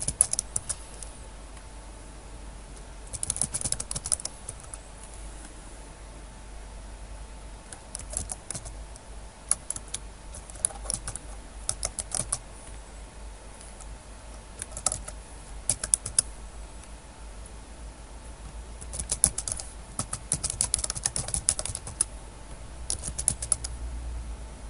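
Computer keyboard keys are tapped in scattered bursts while a bank name and account details are entered into a form, the clicks close and fairly soft over a quiet background hiss, pausing between short runs of typing.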